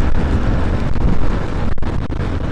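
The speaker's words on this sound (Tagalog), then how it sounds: "Siguro sobrang lakas ng hangin." Strong wind roaring against the microphone outdoors, a loud, continuous rumbling buffet with brief gusting dropouts and no speech.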